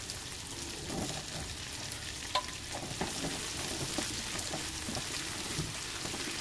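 Potato frying in a pan with brinjal about to go in gives a steady, moderate sizzle with crackling pops, while a few stirring clicks sound close by.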